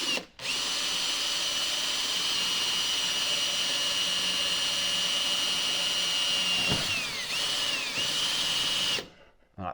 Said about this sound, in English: let's get a little pilot drill. We'll put like a little 4mm drill through first.